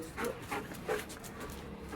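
A large dog pants and snuffles close by in a dim space, a few quick breathy huffs rising and falling, with faint whimpering sounds.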